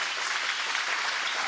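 Studio audience on a French car show applauding, a short, steady spell of dense clapping at even level without voices.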